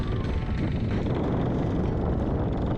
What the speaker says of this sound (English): Listen to that wind howl.